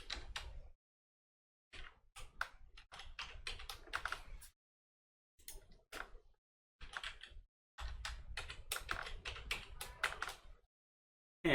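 Computer keyboard being typed on during a Raspberry Pi 3 Model B Octopi setup, short bursts of quick, close key taps separated by silent pauses.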